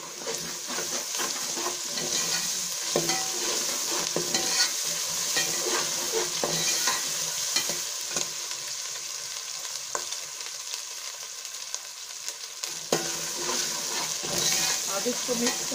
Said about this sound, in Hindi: अब इसमें अदरक लहसुन का पेस्ट डालेंगे।